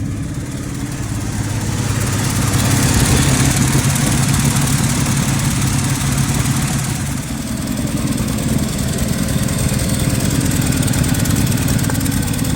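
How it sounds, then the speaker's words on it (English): A 1968 Chevrolet C10 with its 250 inline-six runs steadily at idle, a low rumbling drone with a raspy, puffing edge from an exhaust leak where the exhaust and intake manifolds meet, close and continuous. "Got a exhaust leak coming from right here where the exhaust and the intake manifold meet up"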